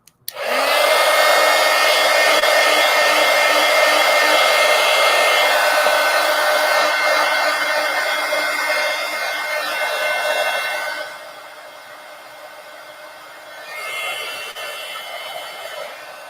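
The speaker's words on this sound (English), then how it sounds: "I'm going to get the heat gun and dry my stars down here." Heat gun blowing hot air over wet paint in a collage journal, a loud steady whoosh that runs about eleven seconds, drops to a quieter hum, then swells briefly again near the end.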